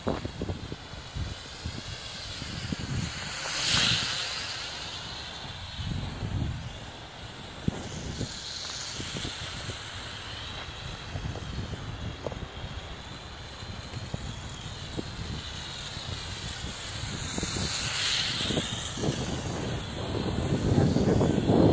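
A Huiying Toys Y2015 toy drone carrying a camera and landing gear whines as it flies, its pitch rising and falling as it swoops and turns, with gusts of wind buffeting the microphone throughout.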